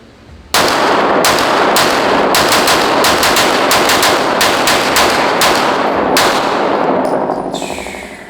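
Rapid gunfire from an Icarus Precision OZ9X compensated pistol, a loud dense string of shots starting abruptly and continuing for about seven seconds before fading, with no talking.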